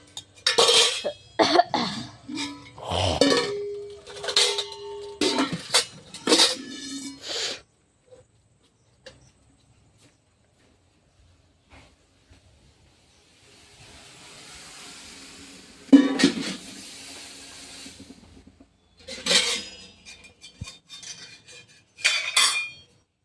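Dishes and utensils handled in a home kitchen, with clattering metal clinks and scrapes in close bursts during the first seconds, then a long quiet stretch and a few more sporadic clanks later on.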